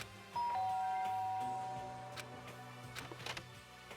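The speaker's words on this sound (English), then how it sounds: "There's a doorbell next to the door." Doorbell in the video game Danganronpa: one clear electronic ding-dong chime rings out near the start and fades away, followed by soft tapping sounds, with no voices.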